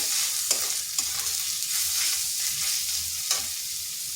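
Kashmiri chili, coriander and cumin powders fry in a pan for an egg and pointed gourd curry, giving a steady close sizzle broken by a few sharp scrapes of stirring.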